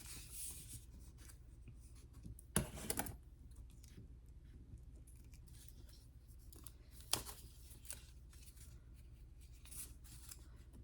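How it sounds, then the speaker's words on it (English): Scissors cut through foam with soft, scratchy snipping and rubbing close by, faint and irregular, with two brief louder crunches standing out. "let's cut some foam"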